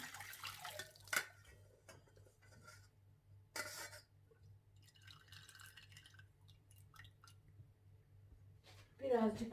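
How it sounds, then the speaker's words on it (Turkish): Soaked sumac seeds are strained through a kitchen strainer, with water trickling and dripping in short bursts and a few clicks, under quiet talking. "Sumak taneleri. Şöyle süzeceğim. Süzgeçten süzeceğim."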